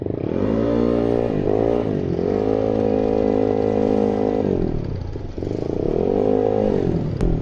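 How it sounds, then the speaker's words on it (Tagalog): A motorcycle engine runs steadily up close, its pitch rising and falling as the rider changes speed, with a constant buzzy drone. "Rinig naman siguro yung andar ng makina."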